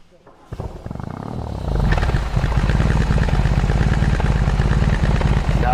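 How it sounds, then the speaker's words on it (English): A BMW R18 boxer motorcycle engine cranks and fires up, swelling from a starter whir into a loud, deep, throbbing idle with a steady pulsing rumble, heard up close. "Start button starts the engine."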